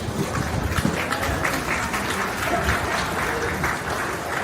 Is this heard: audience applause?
yes